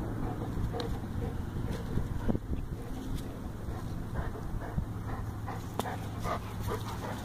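A dog breathes hard after running, its quick panting faint beneath gusty wind noise outdoors, with a few sharp thumps and rustles scattered through.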